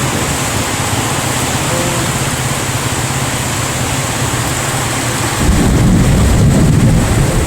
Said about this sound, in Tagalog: Lumalakas yung ano, kulog at saka mga kidlat.